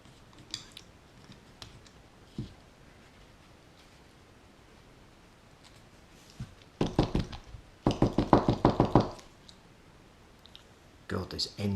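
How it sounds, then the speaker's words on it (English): Screws being undone from an oil pump end cap with a tool, scattered clicks and taps followed by bursts of rapid ratcheting clicks, close up. "take the end cap back off, take these 2 screws out"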